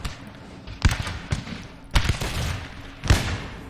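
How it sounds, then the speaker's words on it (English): Musket volleys from Voltigeur skirmishers in Napoleon Total War, with four separate sharp cracks spaced about a second apart, each one followed by a rumbling tail over steady battlefield background noise. "And the Voltigeurs are starting to fire."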